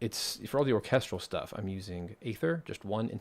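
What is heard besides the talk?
No everyday noises stand out.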